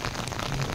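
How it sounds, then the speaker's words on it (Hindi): Steady rain falling over the old stone houses of a village in Uttarakhand, a dense, close, continuous hiss with no break and no talk, lasting under a second. "तो करीब आधा घंटा बारिश आ गई है।"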